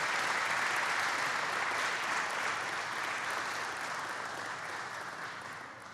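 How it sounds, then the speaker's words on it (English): A crowd at a presidential infrastructure event gives the governor a long round of applause, with thick, continuous clapping that slowly fades over six seconds. "Let's give the governor another great round of applause."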